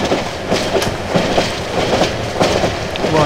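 A metro train in the horror video game Cry of Fear rumbles steadily with rhythmic clickety-clack of wheels on rails, loud and continuous with no voices.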